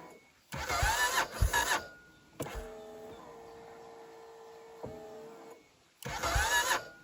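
A vehicle with a battery drained by winching tries to start in a forest. Two short bursts of starter cranking are separated by a long, thin electrical whine, and the engine never catches.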